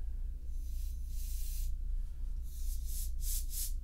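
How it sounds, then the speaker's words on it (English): Lubricant sprays from an aerosol can onto a Godin guitar in several short hissing bursts. The bursts are close and fairly soft, with the last ones quick and clustered together. "I'm just gonna take a look at what this seems like if I spray this on here."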